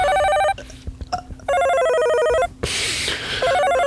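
An office telephone rings in repeated electronic bursts, loud and close, with brief gaps between trills and a short noisy stretch in the middle.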